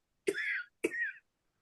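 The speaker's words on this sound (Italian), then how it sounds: "Tra un colpo di tosse e un altro" Two short coughs in quick succession, each a harsh burst with a brief rasping tail, close and clear against silence.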